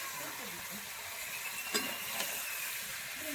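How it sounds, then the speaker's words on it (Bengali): Cabbage with shrimp and spices sautéing in a pan, a steady broad sizzle with a few soft stirring scrapes, close and moderately quiet throughout. "বাঁধাকপির সঙ্গে একসঙ্গে সব কিছু কষিয়ে নেবো।"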